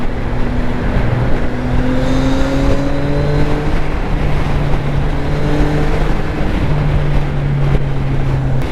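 A CFMOTO 675NK motorcycle on the road, its engine droning steadily with rising gear tones under heavy wind rush, loud and continuous with no talk.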